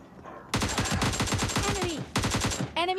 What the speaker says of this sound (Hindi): और यहाँ पर मैं ऐसे फायरिंग करता हूँ थोड़ी सी